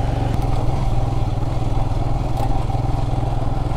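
A 400cc motorcycle riding on a mountain road from Siliguri to Gangtok, its engine a loud steady close-up chugging drone with rumbling throb and no talking.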